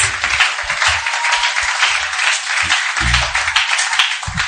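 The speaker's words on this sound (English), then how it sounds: "Can we give a better round of applause?" An audience breaks into sustained applause at a motivational talk on succeeding globally, a dense wash of many hands clapping steadily and loudly for several seconds.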